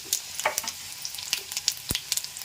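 Urad dal and dried red chillies frying in hot oil, with a close, crackling sizzle of scattered pops and spits and a brief louder stir.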